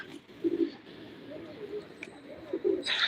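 Pigeons cooing on a terrace, soft low coos repeating in short phrases, fairly close but quiet over faint background hiss, with a brief high tone and a noisy burst near the end.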